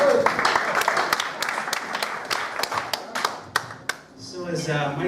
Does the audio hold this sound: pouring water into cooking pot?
no